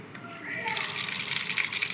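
Water running from a bathroom tap, a steady rushing gush that swells louder partway through and continues close by without any talk.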